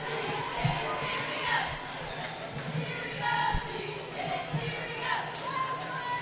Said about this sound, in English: Cheer squad trying to rally the Chieftain faithful here